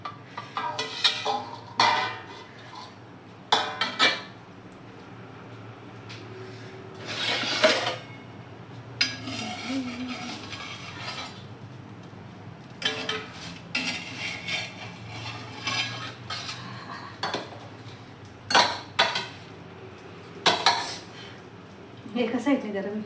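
A knife cuts a roti pizza on a plate at home, giving scraping and clinking metal-on-ceramic strokes in irregular bursts, with quieter rubbing between them, fairly close.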